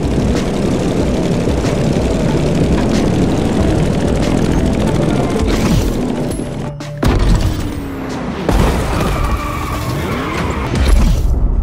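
An F4U Corsair propeller plane in The Crew Motorfest: a loud, steady engine drone with a continuous propeller roar, briefly dipping and shifting in pitch before resuming at full strength.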